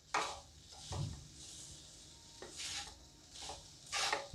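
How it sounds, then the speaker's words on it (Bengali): Grated coconut and sugar are stirred together in a pan over a medium gas flame, giving soft scraping and light knocks of a spoon against the pan in a faint, irregular rhythm. "এইভাবে নারকেল আর চিনিটাকে খুব ভালো করে মিশিয়ে যেতে হবে"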